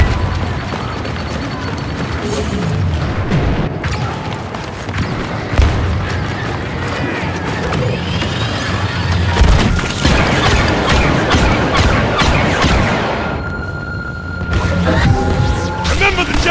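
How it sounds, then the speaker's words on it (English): Auto gun fire and explosions in a Star Wars game set in the Crait hangar, loud booms and crashing blasts rolling continuously with rapid crackling shots, while a voice speaks over the battle. "Arming auto gun."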